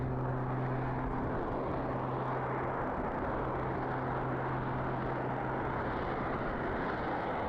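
Aerobatic airshow plane with an 8.5 litre Lycoming engine plus jets, giving a steady, loud, broad engine roar with a tonal drone held throughout, and no talking.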